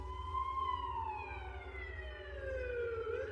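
A wailing police siren rises and falls, sweeping down in pitch over a low rumbling engine, moderately distant with no voices.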